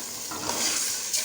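Masala with ginger and garlic paste frying in a pan while being stirred, a continuous close hiss and sizzle with soft scraping strokes, steady and moderately loud, no speech.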